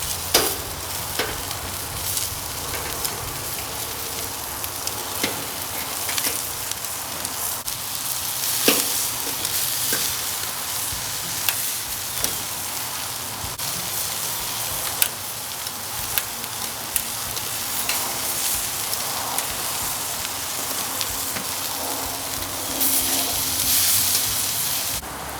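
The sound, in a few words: chicken skewers sizzling on grill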